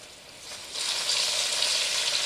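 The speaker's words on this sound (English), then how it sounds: "we're going to get these last tenderloins fried up" Homemade tenderloins dropped into hot oil, a steady bright sizzle that swells louder after the first moment and keeps frying close by.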